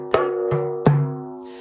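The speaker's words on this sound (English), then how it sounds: "In a different way, I'm going to fill in a left-hand tock" Three close strikes on a frame drum playing Maqsuum with left-hand tock fills, sharp rim hits whose resonant tone rings out between them.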